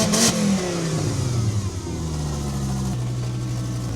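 A small car's engine revving with a slight exhaust leak, rising and falling in pitch over a steady mid-range drone, close and loud with no talk.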